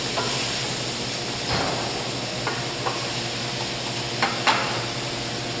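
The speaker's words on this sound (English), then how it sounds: "over here you see we got it deglazing" Pan sauce for a grilled chicken and chickpea casserole deglazing over a stove flame: a steady hiss and sizzle with a few sharp scrapes and knocks from a wooden spoon, close and continuous, with no talking.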